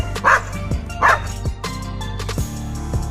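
A Rajapalayam dog gives a few deep woofs spaced about a second apart, heard close and fairly loud over a low steady background hum.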